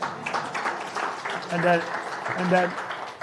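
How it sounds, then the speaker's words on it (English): A crowd applauds at an ANC political rally branch meeting, with steady broadband clapping and a couple of loud voices calling out over it. "Give it a big round of applause."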